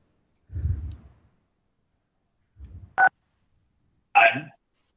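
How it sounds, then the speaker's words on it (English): Phone keypad tones as someone presses star then six to unmute on a council meeting call: two short, clear beeps separated by about a second, preceded by faint handling bumps, in otherwise silent surroundings. "if you are Dana, you should be able to unmute yourself with the *6."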